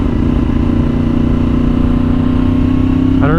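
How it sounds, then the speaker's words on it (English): Yamaha R1 sport bike engine droning steadily under throttle while riding, a loud continuous mid-pitched hum with a slight rise near the end. "I don't know if you guys can hear the throttle, but I'm in mode B"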